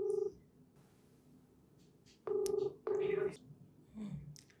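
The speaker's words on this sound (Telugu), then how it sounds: "ఇప్పుడు రాయదుర్గం సిఐ వెంకన్న గారితో మనం మాట్లాడదాము ఫోన్ లో." A telephone ringback tone sounds during an outgoing call, with three bursts of ringing separated by pauses, heard close and clear over a quiet background with brief faint rustling.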